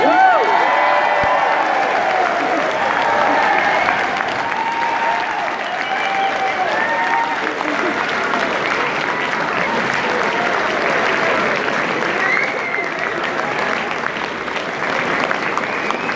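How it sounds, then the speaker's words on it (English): Loud, sustained applause from a large crowd fills the whole clip, with scattered cheers and whoops rising through the clapping. "just a big round of applause for our security."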